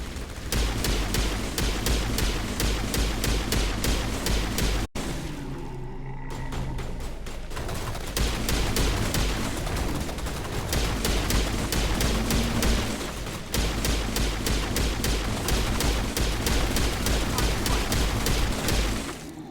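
Sledgehammer rounds fired in the video game Mass Effect, rapid steady bursts of loud, close gunfire hammering on almost without a break, with one brief lull partway through.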